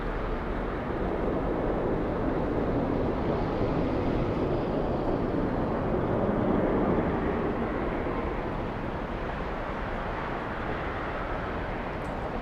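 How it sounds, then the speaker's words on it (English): A Southwest airliner lands at Atlanta's Hartsfield-Jackson airport with a steady, distant, broad jet roar that swells slightly midway and then fades gradually, with no voices. "So that's Southwest coming in, and this is the Delta exiting."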